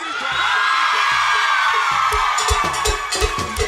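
A lively carnival crowd at a live concert whoops and yells together over loud festive music, the shouts swelling and growing rowdier toward the end.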